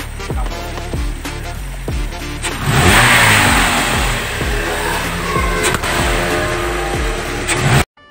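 A 2012 Toyota Rush engine running during tuning gives a series of sharp, close revs that rise and fall, then holds a louder, steady high rev before cutting off abruptly at the end.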